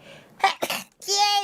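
A single sneeze from a VTuber, a quick breathy wind-up followed by a sharp, loud burst with a short voiced tail, close to the microphone and about a second long.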